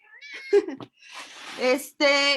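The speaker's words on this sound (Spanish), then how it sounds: "Ya pasó por ahí el gato, disculpen." House cat wandering past a lecture meows several times, the drawn-out tonal cries near and fairly loud, with a voice briefly speaking between them.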